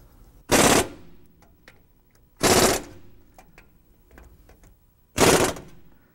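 Rolls Royce Silver Cloud 2 brake bolts being tightened with a pneumatic impact wrench: three loud close rattling bursts, each under a second, separated by quiet pauses with faint workshop clinks.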